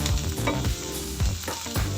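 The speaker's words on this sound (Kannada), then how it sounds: "ಈರುಳ್ಳಿ ಸ್ವಲ್ಪ ಬ್ರೌನ್ ಆಗ್ತಾ ಹೋಗಬೇಕು. ಕರ್ಬೇವಿನ ಸೊಪ್ಪು ಸ್ವಲ್ಪ ಗೋಲ್ಡನ್ ಬ್ರೌನ್ ಬರಬೇಕು" Sliced onion and curry leaves frying in hot oil in a pan for paneer fry, a loud, close sizzle with quick rhythmic stirring strokes.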